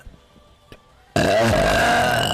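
A person lets out a long, loud, guttural burp lasting over a second, preceded by quiet background noise and a faint knock.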